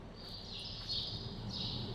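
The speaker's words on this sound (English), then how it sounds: "MRG bird sounds inside the barn." Small birds chirp inside a barn in Farming Simulator 22, a faint, thin high-pitched twittering in a couple of drawn-out bursts over a quiet ambient hum.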